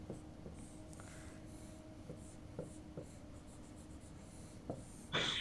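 Chalk or marker scratches across a lecture-hall board while an RC circuit diagram is drawn, a run of short scraping strokes and taps, fairly quiet and close, with no talking.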